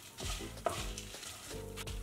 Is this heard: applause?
no